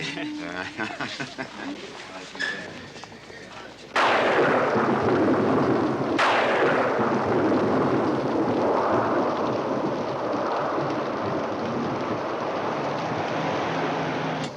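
Heavy rain pours steadily while loud thunder cracks twice, each boom rolling into a sustained rumble; talking can be heard briefly before the storm swells. A television drama scene.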